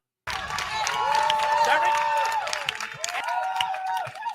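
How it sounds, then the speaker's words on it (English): A TV show audience for a cabaret event cheers loudly, a dense crowd roar with clapping and whoops that swells and stays strong throughout, with some voices and shouts rising above the din. "Now y'all want to cheer for her."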